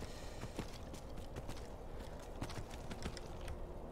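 Horse hooves clopping while riding in the video game Skyrim, a steady run of muffled footfalls under a dense, constant game soundscape at moderate level.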